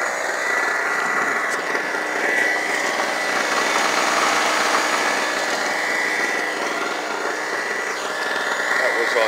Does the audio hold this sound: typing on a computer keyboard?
no